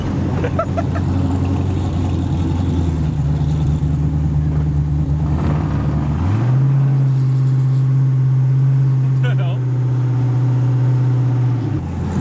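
An LS V8-swapped Ford Mustang drives along with a loud, steady engine drone heard from inside the car. The pitch holds, then climbs and settles higher partway through as the car pulls harder.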